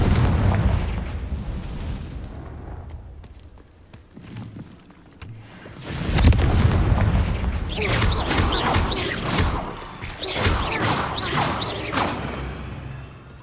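A Confringo explosion spell in the Hogwarts Legacy video game: a deep rumbling boom swells midway and rolls on, overlaid with crackling bursts and game effects, loud and continuous.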